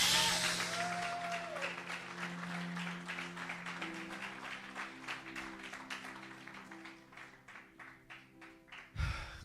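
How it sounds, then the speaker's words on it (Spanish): A church congregation claps over their heads during a sermon: dense clapping at first, thinning into scattered individual claps over sustained instrumental tones, ending with one louder clap. "Aplauda sobre su cabeza y diga:"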